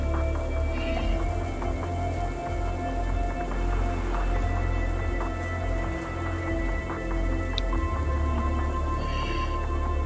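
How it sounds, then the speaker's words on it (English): Steady rain falls throughout, a dense wash of patter on hard surfaces with a constant low rumble underneath. "Not used to so much rain in Arizona"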